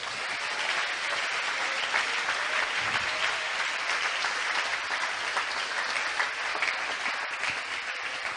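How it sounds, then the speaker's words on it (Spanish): A church congregation claps together steadily and loudly for the whole stretch, one continuous wave of applause with no pauses or talk over it. "Démosle un aplauso al Señor en esta hora."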